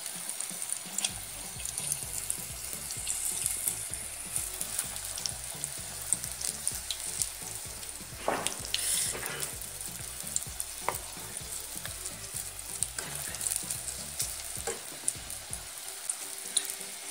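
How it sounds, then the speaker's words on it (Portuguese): Breaded bananas frying in hot oil, a steady close crackling sizzle that runs throughout with occasional stirring clinks and no talk. "agora eu vou estar fritando."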